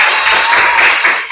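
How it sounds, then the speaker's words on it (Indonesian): Students in an Indonesian primary classroom break into loud, close applause for a classmate, a brief dense wash of clapping with no talk over it. "beri tepuk tangan buat Askia."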